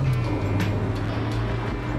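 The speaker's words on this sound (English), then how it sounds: "Nice throaty little warble from the engine. It's a happy car, the Dacia Sandero." A Dacia Sandero engine gives a steady, low, throaty warble, loud and continuous from close by, with no voices over it.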